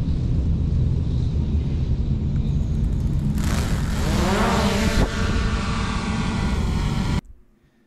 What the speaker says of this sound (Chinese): 那无人机升空之后，它会停在差不多一米左右的这样一个位置